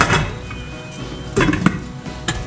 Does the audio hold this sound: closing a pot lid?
yes